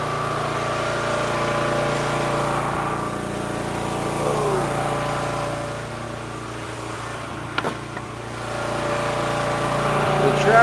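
A tractor engine runs steadily under load while pulling a heavily overfilled firewood trailer, giving a continuous droning hum that stays close and fairly loud for the whole stretch, with a brief clunk partway through.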